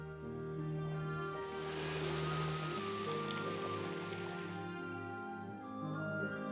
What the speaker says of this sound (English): In my wellies. In the rain.